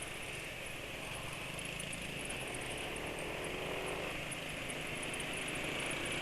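A motor engine idles smoothly after an oil change, giving a quiet, steady hum with an even, unbroken texture throughout.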